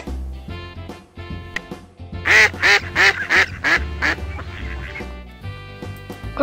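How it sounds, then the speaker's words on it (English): A duck quacks loudly in a quick run of about six close, evenly spaced calls, with soft background tones before and after and no talking. "Yellow duck."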